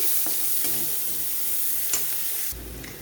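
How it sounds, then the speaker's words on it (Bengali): Chopped onions fry in mustard oil with a steady crackling sizzle and a few spatula scrapes and taps, then the sound drops abruptly near the end. "এবার পেঁয়াজটাকে আমি কিছুক্ষণ ভেজে নেব।"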